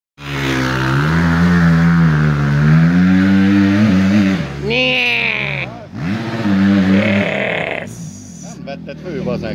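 A four-stroke motorbike engine revs out in the snow, its pitch swelling and dropping in loud repeated surges, with voices talking alongside.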